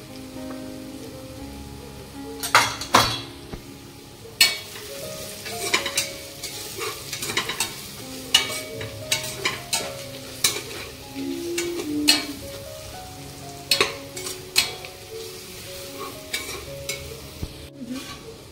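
A spoon scrapes and stirs turmeric, red chilli powder, masala and coriander powder into sode bhat, dried fish rice frying in a pan, with steady sizzling under repeated close clanks and scrapes.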